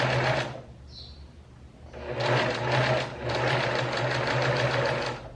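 A sewing machine stitches close along the edge of a blouse, loud rapid mechanical chatter in two bursts separated by a brief quieter pause with a faint tone.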